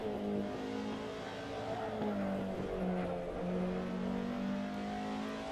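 A modded race car in Assetto Corsa at Brands Hatch roars steadily under heavy throttle, its engine note rising and falling through the gears for several seconds, loud and close with no talking over it.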